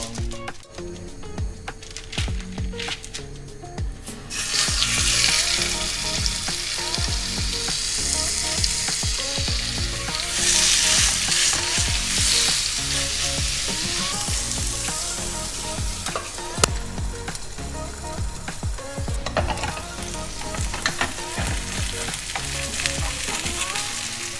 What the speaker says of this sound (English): I've never made burgers like this before.